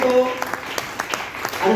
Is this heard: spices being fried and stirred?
no